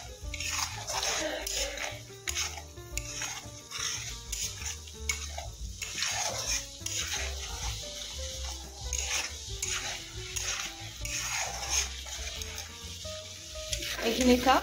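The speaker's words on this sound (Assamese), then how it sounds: "ধনিয়াটো যেতিয়া খুব ভালকে ভাজি লয়" Coriander and chicken fry in hot oil in a pan for a dhaniya chicken gravy, a steady sizzle with repeated stirring and scraping of a spoon against the pot throughout.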